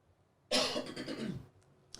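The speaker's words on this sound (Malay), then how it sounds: "Sorry batuk." A single harsh cough bursts out close by, followed by a brief rough trailing exhale and a tiny click at the end.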